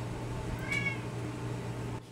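A single clear cat meow, short and slightly wavering, rising over a steady low household hum with no voices.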